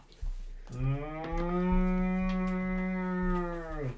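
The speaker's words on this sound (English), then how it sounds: "Cows are mooing a lot." A single cow moos in a cattle field as tabletop-game ambience, one long, loud, low bellow lasting about three seconds, heard close and clear with no talking over it.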